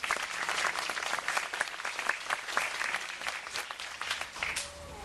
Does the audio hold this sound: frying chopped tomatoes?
no